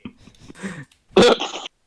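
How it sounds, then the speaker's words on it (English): A person gives a single hard, loud cough, preceded by softer throaty breathing and a short throat-clearing noise, close to the microphone. "I coughed way too hard"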